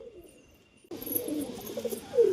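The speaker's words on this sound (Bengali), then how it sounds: "মাদি কবুতর আছে" Low, soft cooing of a female pigeon rises after a quiet start, a murmuring coo repeated against faint background noise.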